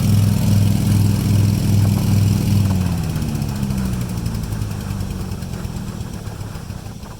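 Small engine on a mud pump running with a rough, throbbing idle, then faltering and winding down as it dies, the low thump fading over the last few seconds.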